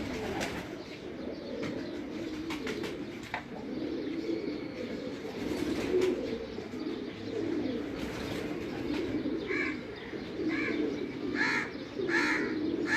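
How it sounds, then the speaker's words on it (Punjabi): Grey pigeons coo in low, rolling, continuous phrases close by, with a few sharper chirps near the end and no talking over them. "ਇਹ ਮੀਆਂ ਨਜ਼ੀਰ ਸਾਹਿਬ ਵਾਲੇ ਸਲੇਟੀ ਕਬੂਤਰ ਨੇ"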